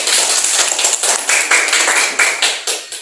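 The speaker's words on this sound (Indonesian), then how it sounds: "Tepuk tangan dulu." A classroom of students clapping hands in a lively burst of dense, overlapping claps, loud and close, thinning into a few separate claps toward the end.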